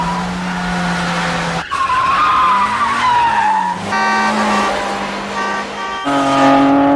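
A car races with loud tire skids and squeals over a revving engine, the pitch sliding up and down through several sharp cuts and bursts, like a crazy-driving sound effect, close and continuous throughout.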